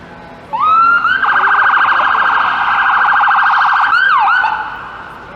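A loud ambulance siren wails close by on a downtown Toronto street, with a rapid yelping pattern between rising sweeps, then fades as the vehicle passes.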